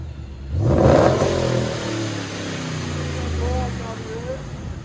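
Procharged RAM 1500 pickup with a 5.7L HEMI V8 and Magnaflow glass pack mufflers revs hard and close by, its loud engine rising and holding a deep, steady roar for several seconds.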